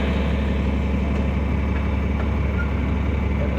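A tractor hitched to a three-point disc mower idles steadily, a constant low diesel rumble with no change in pace, close and alone without talk.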